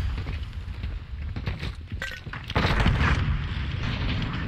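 A grenade detonating in a Call of Duty match, a loud close blast at about two and a half seconds amid gunfire and footsteps, with a rumbling tail.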